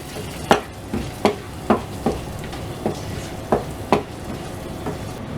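Moong dal for Punjabi-style tadka daal being stirred after adding kasuri methi, with regular spoon knocks against the pot about once a second over a soft sizzle, close and clear, no talk.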